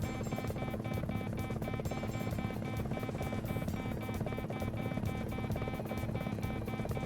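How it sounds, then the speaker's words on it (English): An enemy helicopter in a PS1 video game gives a rapid rhythmic rotor chop, quiet and continuous, mixed with steady game tones and no talk. "Enemy chopper"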